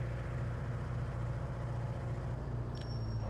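A video game car engine hums in a low, steady drone throughout, fairly quiet, with a brief faint tick near the end and no voices.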